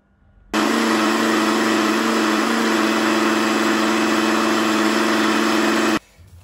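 A kitchen blender whirs loudly for about five seconds, mixing coconut chutney with lemon, salt and coconut milk, starting abruptly and cutting off cleanly with no talking.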